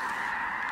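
A huge flock of snow geese honks in North Dakota, a dense, continuous chorus of overlapping calls, loud and close, with no talk.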